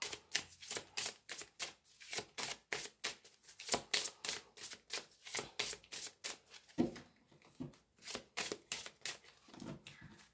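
Tarot cards shuffled and cut by hand, a long series of rapid crisp riffling bursts and soft taps in an uneven rhythm, close and quiet with no talk.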